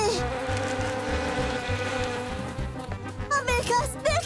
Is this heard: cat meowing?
no